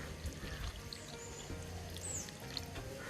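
Warm water poured onto homemade paneer in a kitchen, a steady, soft trickling stream that runs quietly and continuously for a few seconds, with faint background sounds.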